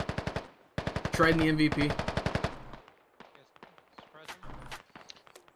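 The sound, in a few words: machine gun fire in a military video game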